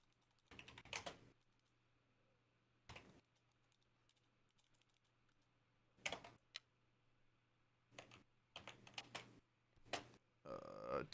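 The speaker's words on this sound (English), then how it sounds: "I can hear him typing" Quick bursts of clattering computer keyboard typing, close and crisp, arriving in short separated flurries over a low steady hum.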